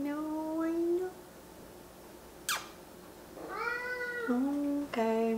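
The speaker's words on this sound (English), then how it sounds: "Oh, kitten." A kitten meows several times indoors, a short rising mew, then a rising cry and two more falling mews, fairly close and clear over quiet room tone.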